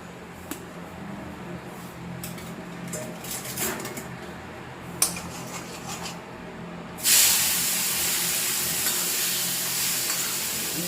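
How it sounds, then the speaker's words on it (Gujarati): Vegetables hit hot oil seasoned with asafoetida and turmeric, and a loud, steady sizzle suddenly erupts about two-thirds through, following quieter stirring and scattered light clinks of a pan. "એઝ ઇટ ઇઝ તેલમાં હળદર, અને હવે નાખીશું શાક"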